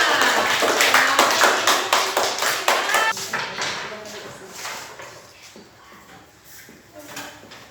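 Classroom applause for group A: a burst of clapping from a group of students that is dense at first and then thins and fades, with voices mixed in.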